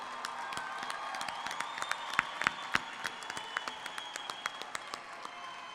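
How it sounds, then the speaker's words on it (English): Audience at a California State University, Fresno commencement ceremony claps in a large hall, a dense patter of many hands with some louder individual claps, moderately distant and steady throughout. "You can applaud again now."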